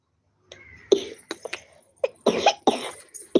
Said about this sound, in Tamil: இந்த இருமல் வேற, வரட்டு இருமல் வந்துக்கிட்டு பிள்ளைய பாடா படுத்துது